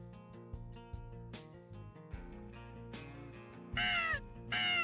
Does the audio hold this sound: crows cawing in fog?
yes